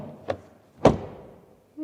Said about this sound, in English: And what about the rear door closing sound?